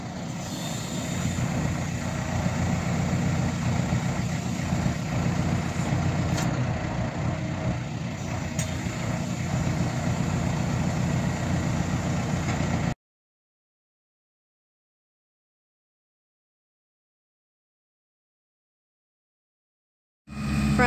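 A Euro 250 tractor with a front-mount turbo and a Bomford Raptor 1600 idles with a steady, moderate engine rumble for about thirteen seconds, then cuts to silence.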